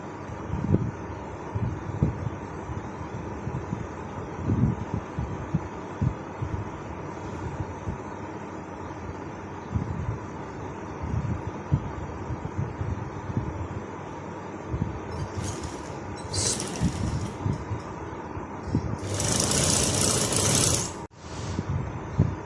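A sewing machine runs stitches along folded fabric strips for a simple frock bow, giving a steady, close mechanical clatter with brief bursts of higher rattling near the end and no talk.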